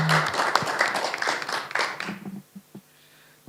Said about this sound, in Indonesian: Beri tepuk tangan dulu untuk para eksponen pemuda Indonesia.